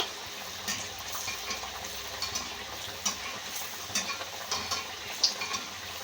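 Rajasthani kalmi bora fritters fry in oil with a soft, even sizzle, fairly quiet overall, punctuated by a few light clicks and small pops.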